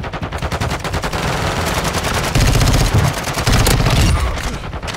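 Automatic gunfire in a video game rattles in fast, loud bursts with several weapons overlapping into near-continuous volleys, and no voices are heard.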